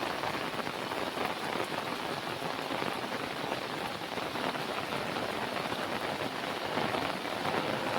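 Steady downpour over farmland after a long dry spell: a thick, constant roar of rain pattering on nearby surfaces, unbroken and fairly loud throughout, with no one talking.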